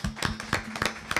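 Applause for conference panelists, a short burst of scattered clapping from a small audience, fairly close and steady with no speech.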